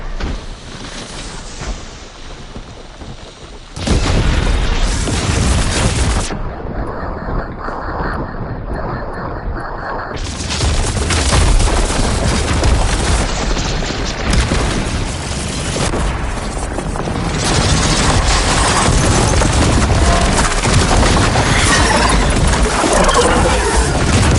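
Sustained video game gunfire in the middle of a firefight in Broken Sky, dense and loud throughout, with booming impacts layered over continuous battle noise and no clear speech.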